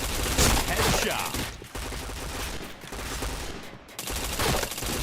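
Rapid automatic gunfire in a video game shooter, loud and dense bursts filling most of the stretch, with short gaps between volleys.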